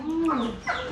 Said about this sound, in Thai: ไก่มาอีกแล้ว